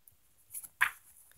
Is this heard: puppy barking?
yes